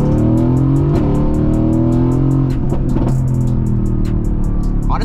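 Mercedes-AMG GT S, a 670 hp car, launching in second gear at about 20 mph: a loud, steady engine drone at close range with a rising harmonic whine throughout.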